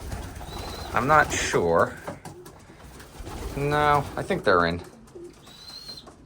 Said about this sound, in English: These are all the young birds.